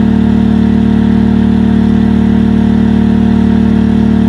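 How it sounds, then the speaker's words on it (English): A Micro Air unit on an RV air conditioner hums with its compressor and fan, a loud, steady, unbroken drone that stays constant from start to finish. "right there is the AC compressor that kicked in"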